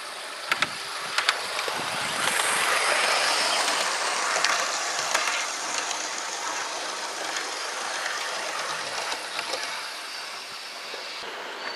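A model train rumbles past steadily for several seconds, with a broad rushing roar and occasional metallic clicks and clanks, fairly close and with no talking.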